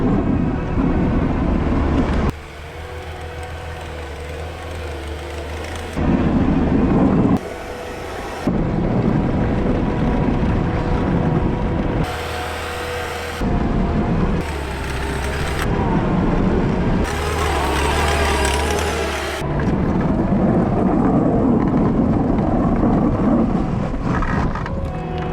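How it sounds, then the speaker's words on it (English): Skid steer pushing deep snow during a heavy 2020 snowstorm, a loud steady engine drone with broad rumbling noise that surges and drops in level across the stretch, with no talk. "I hopped in the skid steer here now because I want to open it up"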